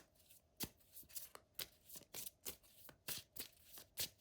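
Tarot cards are shuffled close up in quick, crisp riffling bursts, about a dozen soft slaps in an uneven rhythm, quiet and without talk.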